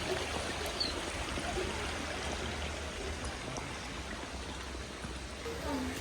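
Steady broadband rush of flowing stream water, continuous and fairly even throughout, with no other distinct sounds standing out.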